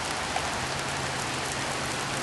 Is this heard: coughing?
no